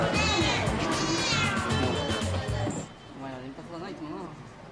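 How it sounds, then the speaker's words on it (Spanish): Several cats at a cat café in Japan meow repeatedly, with high, wavering cries close by that fade to softer mews over a steady room murmur. "los amantes de las mascotas pueden pasar un rato con un gato en este zoo de mascotas"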